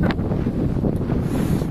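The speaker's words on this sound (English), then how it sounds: "It's windy." Wind blows hard at Skerries Beach in November, a loud, continuous rumbling buffet against the microphone with no voices.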